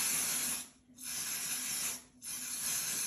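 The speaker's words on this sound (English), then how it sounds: "you use your cooling spray to spray it." Three long hissing bursts of cooling spray onto a bicycle crankset, each a steady rush lasting about a second, separated by short gaps, close and fairly loud.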